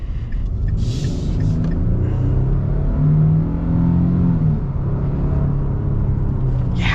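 A 2024 Nissan Frontier truck with a naturally aspirated 3.8-liter V6 accelerates in a steady, loud engine rumble heard from inside the cab, the pitch rising and holding as the revs climb, with no talking.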